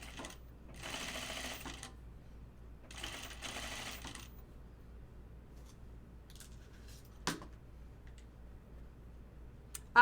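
Sewing machine stitching a button-up shirt, two short close bursts of rapid stitching a second apart, followed by quiet with a few faint clicks.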